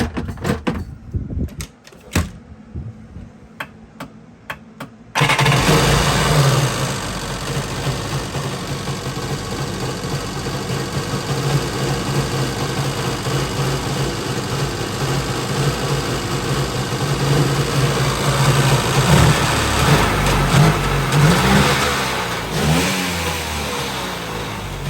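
Jet ski engine being choked and primed: a few sputtering cranks and pops, then the motor catches and settles into a loud, rough idle with wavering revs.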